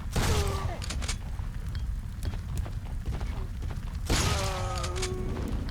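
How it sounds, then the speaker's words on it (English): A shotgun fires in the survival horror game Biohazard Outbreak, with two loud blasts a few seconds apart, each followed by mechanical clatter, over a constant noisy game background. "You can't get headshots with this shotgun."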